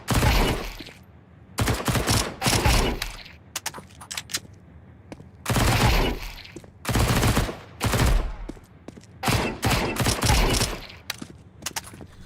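MP9 submachine gun firing in Counter-Strike 2, loud rapid bursts of automatic fire in repeated volleys separated by short pauses.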